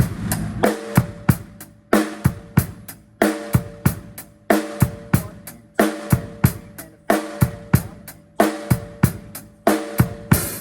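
A faster, brisk drum groove of kick and snare with ringing cymbals, repeating in tight, steady bars from start to finish.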